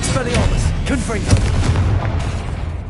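Confringo fire-blast spells cast in Hogwarts Legacy on PS5, rendered as a rapid string of loud booming bursts and cracks layered over constant battle noise, with brief voice fragments mixed in.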